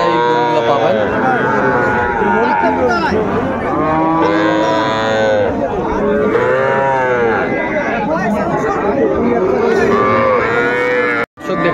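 At a cattle haat in Ambari, Dinajpur, young bulls and heifer calves moo loudly and repeatedly, several long, overlapping bellows close by with no break, set against a faint crowd murmur.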